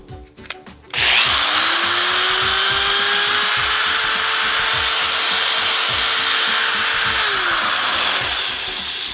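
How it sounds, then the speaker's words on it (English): After a few clicks, an electric drill powered by a Jackery Explorer 240 portable power station whirs up to speed, holds a loud steady whine for several seconds, then begins winding down near the end. "And for the drill."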